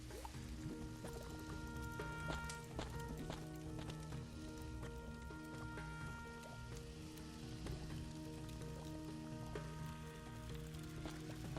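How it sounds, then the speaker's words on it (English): Cold, clear water in the video game Ankh 2 trickles and drips steadily in a soft, continuous patter with scattered droplet plinks, fairly faint and with no talking. "Cold, clear water."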